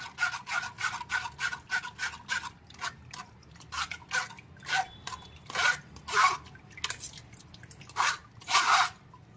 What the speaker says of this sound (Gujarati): તમે પાણીપુરીનો ધંધો કરો તો પણ આવી રીતે પાણીને ગાળી નાખવાનું